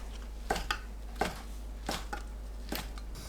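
A knife cutting fish cake into thin 0.5 cm strips on a board, a series of distinct close chopping knocks at an uneven rhythm over low background hum, no speech.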